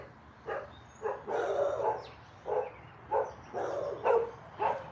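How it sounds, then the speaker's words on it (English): Several dogs barking somewhere off at a moderate distance, a steady run of repeated barks and yips roughly every half second, clear against a quiet room. "There goes the dogs."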